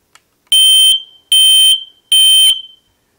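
Smoke detector alarm being tested, sounding three loud, piercing beeps of about half a second each, evenly spaced and close by, with no talk over them.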